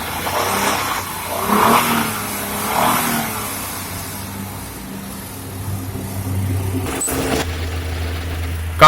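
A Maruti Suzuki Baleno RS with an imported Japanese turbo engine runs steadily close by, its engine note rising and falling in a few revs, with a sharp knock near the end.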